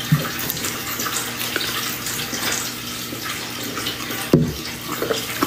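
Steady running water from a cat's water bowl fountain runs continuously in the background of an indoor room, with a brief louder splash or bump near the end.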